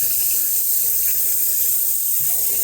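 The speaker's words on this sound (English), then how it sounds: "I'll give these a nice thorough rinse" Blueberries rinsed in a sieve under a running kitchen tap: a steady, loud hiss of flowing water splashing through the mesh, continuous and close, with no talking.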